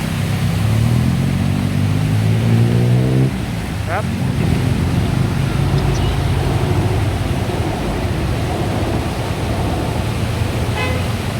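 Road traffic on a flooded Sukhumvit Road in Bangkok during a heavy rainstorm, a constant wash of engines and water spray with a low droning horn in the first few seconds, then a steady roar of passing vehicles.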